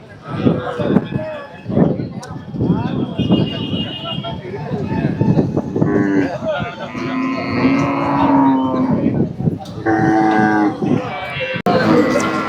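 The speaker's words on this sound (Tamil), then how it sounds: "சந்தன பிள்ளை காளை." A Kangeyam bull moos loudly several times at a cattle market in Kundadam, Tiruppur, long drawn-out calls close by, with people talking and crowd noise around it.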